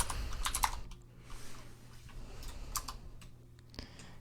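Keys clatter on a computer keyboard as numbers are typed into Blender, a close run of quick, uneven taps with short pauses between bursts.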